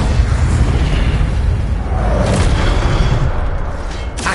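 Incendio fire spell in Hogwarts Legacy, a loud, continuous roaring blast of flame with a deep rumbling low end and a hissing upper layer, swelling slightly midway before tailing off.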